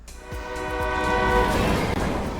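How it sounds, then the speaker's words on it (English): A train circles a Gooey video game level, sounding a sustained horn-like harmonic tone that gives way to a loud, steady rumble of rolling cars. "seeing the train go round and round"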